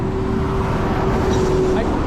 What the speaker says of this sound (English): that guy in the garbage truck is kind of a bad driver and came into the bike lane